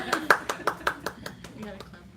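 Several people at an animation club meeting clap their hands in a quick, fairly even burst of about ten claps, with voices talking around them.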